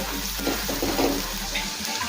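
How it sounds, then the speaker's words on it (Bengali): Onions sizzle and crackle in a hot pan, with a spatula stirring through them in a steady, close-up scraping rhythm. "আবারও কিছুক্ষণ সময় নিয়ে পেঁয়াজটা ভেজে নেব।"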